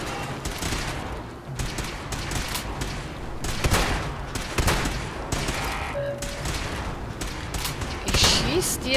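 Gunfire in the video game Fallout 4: repeated sharp shots and bursts with mechanical clicks, loud and close, someone talking between them.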